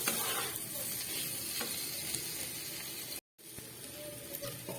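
Potatoes and cauliflower sauté in a pan with a soft, steady sizzle and faint scraping stirs, quiet and close, briefly cutting out to silence near the end, without talk.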